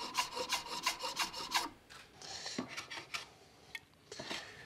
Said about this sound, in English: I'm just putting a slight bevel on the front part of our steps as well.